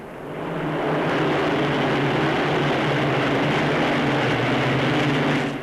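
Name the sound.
Avro Lincoln bombers of Bomber Command flying over an airfield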